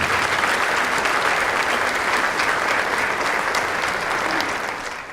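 A crowd gives a big round of applause for an award recipient at a community anniversary event, dense and loud clapping that holds steady and then starts to fade near the end.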